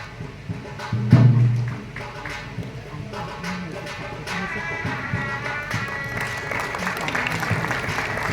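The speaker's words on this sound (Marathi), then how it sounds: "जोरदार टाळ्या" Loud applause from an audience at a poetry book release at a festival gathering, a steady crowd clapping that builds and thickens over several seconds, with a brief thud and faint voices early on.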